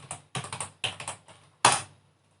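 Keystrokes on a computer keyboard entering a Kali Linux search, in a few quick clustered bursts of clicks followed by one louder final tap, close and clear with no voices.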